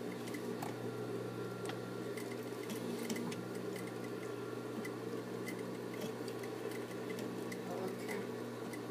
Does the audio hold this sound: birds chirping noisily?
no